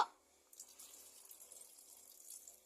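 Water running into a cooking pot for Filipino adobong sitaw (string beans in soy sauce), a steady close splashing pour after a brief onset, alone with no talk.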